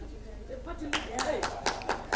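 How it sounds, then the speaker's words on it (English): Senators at a Senate mid-term assessment and planning retreat clap for a colleague and party leader, a few distinct sharp claps ringing out after a voice speaks in the room. "Can you give him a clap for being a party leader also?"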